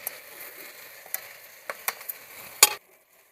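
Fried bitter gourd pieces stirred into ground coriander, ginger, cumin and dried chilli paste in a pan, giving soft scraping stirs with a few sharper clinks against the pan over a low sizzle, ending with a louder scrape before quiet.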